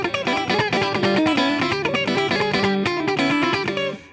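An electric guitar plays a church bump lick without muting the strings, so the notes ring and blur together into a sustained, washy run, loud and close, heard alone for a few seconds.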